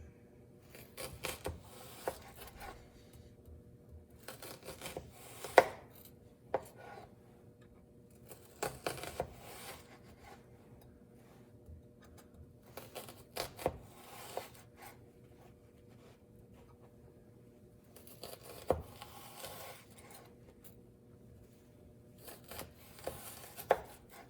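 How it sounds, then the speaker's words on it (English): Knife slicing a vegetable into thin strips on a cutting board, producing quiet clusters of quick tapping cuts separated by pauses, close up and without voices. "And then we'll go sideways through the vegetable."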